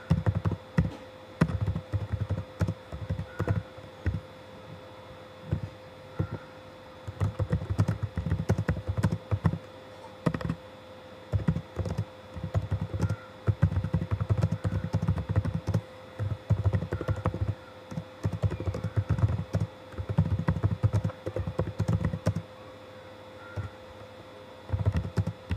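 Typing a note title on a computer keyboard in a money-tracking app, irregular bursts of close key taps with brief pauses, steady faint hum behind.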